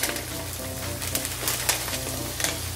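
Precooked mixed vegetables of corn, green peas and carrot sizzling in a pan as samosa filling, a soft steady crackle with occasional stirring scrapes, fairly faint and even throughout, with no voices.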